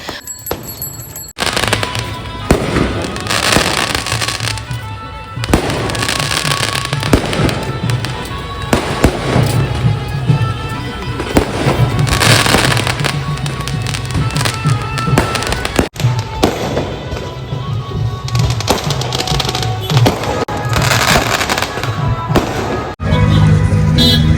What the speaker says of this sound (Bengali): এসেই দেখলাম যে জামাই ঢুকছে এখানে বাজি টাজি ফোটানো হচ্ছে